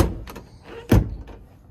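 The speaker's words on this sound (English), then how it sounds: "So this door is hard to open." The tweaked rear door of an old Volvo car is worked open, with a few light metallic rattles followed by one solid clunk up close, then a softer knock.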